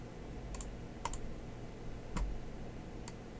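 Sharp computer keyboard key clicks in Autodesk Maya 2015 work, a few isolated taps spaced through a quiet room, close and crisp with no talking.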